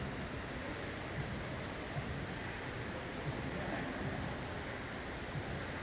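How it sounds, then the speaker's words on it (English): Steady, dense splashing rush of a large indoor hotel fountain with a waterfall at the Venetian in Las Vegas, continuous and fairly close, with no talking. "fountain, little fountain area, and bigger fountain with a waterfall"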